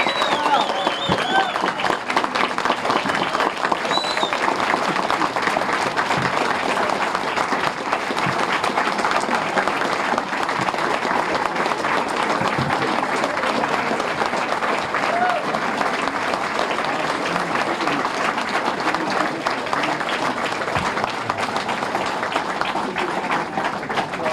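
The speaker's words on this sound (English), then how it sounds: "Could I have a warm, loud cheer for all our recipients today?" A crowd at a medal ceremony claps and cheers continuously for over twenty seconds, with dense and even applause that stays loud throughout.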